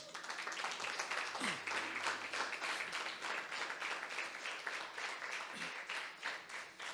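A Sunday church congregation applauds for the Lord, a sustained crowd clapping with some rhythmic pulsing, moderately faint, with a few voices calling out beneath it.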